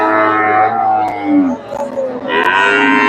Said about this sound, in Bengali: এই যে এখানে একটা গাভী দেখতেছি ক্রোসের গাভী